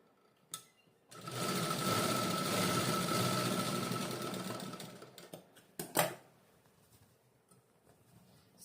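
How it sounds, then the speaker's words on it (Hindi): Sewing machine running steadily for about four seconds while stitching a size 42 blouse, a close, even mechanical whir, followed by a few short clicks and bumps as the fabric is handled. "डबल सिलाई दे देंगे।"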